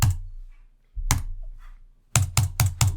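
Clicky keystrokes on a computer keyboard, with isolated taps early on and then a quick run of four sharp strokes at the end, close and fairly loud with no talking.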